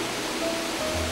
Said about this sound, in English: The roar and the force of the water are fantastic.